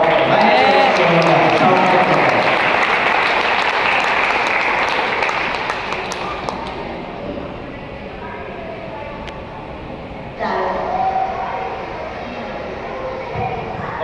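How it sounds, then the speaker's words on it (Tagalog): A church congregation claps loudly for a pastor during a service, a dense wash of applause and crowd noise that fades down about halfway through and then settles into a softer, steadier clapping. "Let's give a big clap kay Pastor Mike, and Lola Raco"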